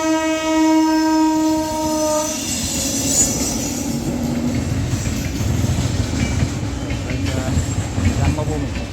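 A train passes close by at the Nidadavolu railway gate, opening with a long, loud horn blast that gives way to a steady, heavy rumble and clatter of wagons rolling past. Other noise runs faintly underneath.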